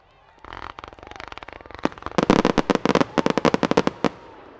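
Fireworks go off at the Lone Star Fireworks Festival in Texas as a rapid string of sharp cracking bursts, starting with scattered pops and building into a dense salvo. Voices are faintly audible underneath.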